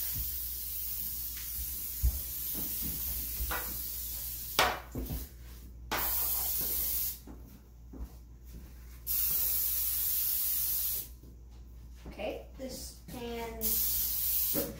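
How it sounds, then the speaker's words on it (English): Cooking spray hisses from an aerosol can onto two cookie sheets in a home kitchen while baking rolls, coming in several steady bursts of a second or two, with clatter and background kitchen noise between them. "Can you go spray those two cookie sheets completely, please?"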